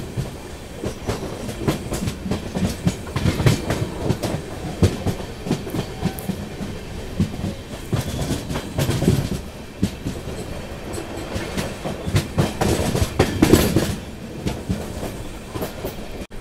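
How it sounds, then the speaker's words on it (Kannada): Murdeshwar–Kacheguda Express (train 12790) running along the track, a steady near clickety-clack of wheels over rail joints with rumbling carriage noise throughout, rising in bursts, no voices. "ನಮ್ಮ ಟ್ರೈನ್ ನಂಬರ್ 12790 ಮುರುಡೇಶ್ವರ ಕಾಚಿಗೂಡ ಎಕ್ಸ್ಪ್ರೆಸ್"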